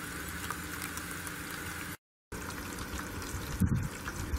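A water pump in a DIY aeroponics bucket sprays water, a steady close hiss and bubbling splash that runs throughout, briefly cut off once, with a small knock near the end.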